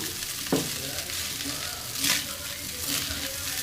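Rice tossed with a little turmeric powder fries in a pan with a steady close sizzle, broken by a few sharp spatula scrapes and stirs; no one speaks.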